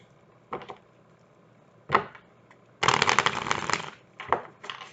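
A deck of tarot cards is handled close up, with short riffling bursts and soft shuffling clatter, including one longer flurry of cards being shuffled and cut.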